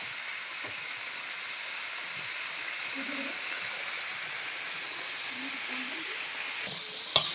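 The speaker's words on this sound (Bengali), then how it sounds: "এবার নাড়াচাড়া করে দিচ্ছি।" Vegetables stirred in a frying pan, a steady moderate sizzle throughout with faint voice-like murmurs beneath and a sharp clank of utensil on pan at the very end.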